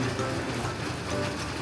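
Heavy rain pouring steadily as a dense, even hiss with no breaks, moderately loud and alone without talk.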